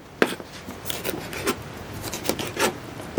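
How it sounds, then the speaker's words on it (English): A potato being peeled with a knife, heard as a series of short, close scraping and rasping strokes at an uneven rhythm, fairly quiet and with no talking. "Peel up the potato."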